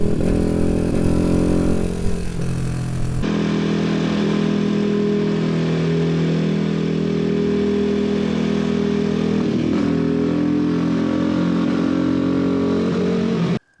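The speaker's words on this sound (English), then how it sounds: "I'll see if I can find some clips to put it in so you can hear that little stumble that it's got." A Janus Halcyon 250 motorcycle runs steadily close by, its single-cylinder engine giving a loud, continuous thrum with slight wavering, alone with no voices.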